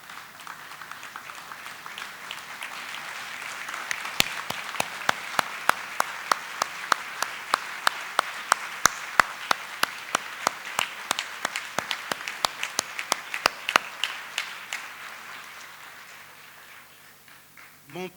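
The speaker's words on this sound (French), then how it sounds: "Je souhaite qu'on puisse se lever et applaudir fortement à ce grand homme." An audience in a ceremonial hall applauds a guest of honour, Reverend Father Salim Dakash. A continuous wash of clapping builds over the first few seconds, holds steady and loud with sharper individual claps, then thins and fades near the end.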